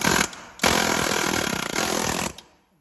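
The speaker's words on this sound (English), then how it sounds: "I take my next air hammer chisel with the curve on it, and I start loosening up the rim" An air hammer chisel with a curved bit hammers at a control arm bushing on a 1965 Ford Galaxie, loud rapid pneumatic rattling in two close bursts with a brief pause between, then cutting off.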